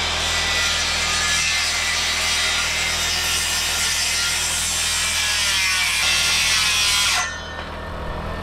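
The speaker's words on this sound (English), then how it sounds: "next we're going to use our circular saw" A circular saw cutting fence boards: a loud, close, continuous high whine of the blade through wood for about seven seconds, then the cut ends abruptly and the motor winds down.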